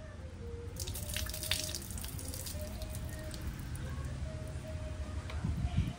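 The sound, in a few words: water running onto hands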